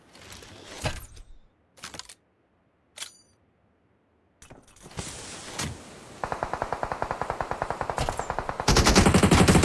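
Gunfire in a shooting video game starts with a few scattered isolated shots, then builds into a steady rapid automatic stream that grows louder toward the end, with no voices.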